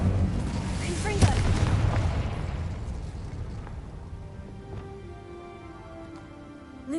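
Confringo fire spell explosion in Hogwarts Legacy, a loud booming blast with a sharp crack that rolls into a long fading rumble, with a voice speaking in the mix.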